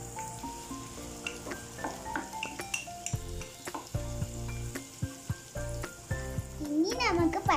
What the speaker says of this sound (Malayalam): ഇഞ്ചി വെളുത്തുള്ളി ഇട്ട് നല്ലോണം വഴറ്റിയെടുക്കാമേ.